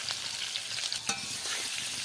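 Raw banana (kola alu) pieces fry with salt and turmeric in a pan, giving a steady close sizzle with faint stirring scrapes throughout the short stretch.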